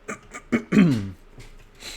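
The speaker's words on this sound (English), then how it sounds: "Excuse me guys, I'm gonna be clearing my throat a lot tonight." A man clears his throat in a few short, rough bursts, the loudest a gravelly rasp near the middle, followed by quieter breathy noises close to the microphone.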